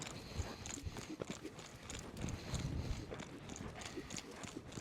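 A campdraft horse trotting with an extended stride, hooves clip-clopping in a steady rhythm at moderate distance, with faint outdoor background and brief quiet voices.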